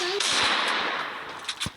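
Quick bursts of gunfire in a shooting video game, a few sharp, close shots over a short span amid background game noise.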